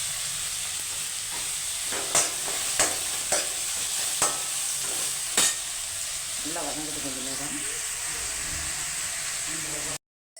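Ingredients for drumstick leaf sambar sauté in a pan with steady sizzling, punctuated by several sharp scraping stirs of a spatula, before a short musical tone near the end and a cutoff.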